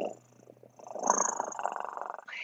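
A human voice imitates a cat's purr with a low, rumbling, rhythmic vibration, soft at first and then swelling in steady pulses before breaking off.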